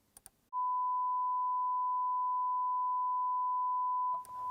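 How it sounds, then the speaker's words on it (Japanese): A steady sine-wave reference tone from DAW software sounds alone at constant loudness for about three and a half seconds, preceded by a couple of faint clicks and ending with a brief handling noise. "こういうサイン波を出して"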